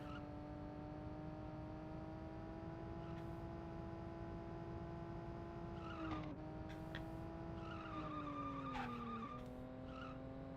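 Tires squeal and skid as a car brakes hard in Cruis'n World on the Nintendo 64, a long, tonal screech that bends in pitch and holds steady over the engine drone, with several sharp wavering shifts near the end.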